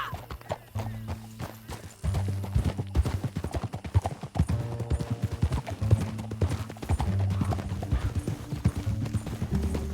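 Steady clip-clop of horse hooves at a trot in Red Dead Redemption 2, close and continuous, with a horse whinnying and brief voices underneath, plus game-style music and ambience.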